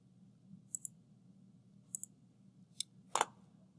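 Four crisp, quiet computer mouse clicks, spaced about a second apart, the last one slightly louder and doubled, as front edges are selected in CAD software, over a low steady background hum.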